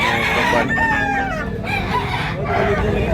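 Roosters crow repeatedly at a busy chicken market in Tabunok, Cebu, several overlapping calls rising loud and near over a steady crowd murmur.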